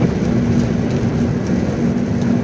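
Rain falls steadily outdoors in warm weather, an even broadband hiss with a low rumbling undertone that stays constant and fairly loud throughout, with no voices.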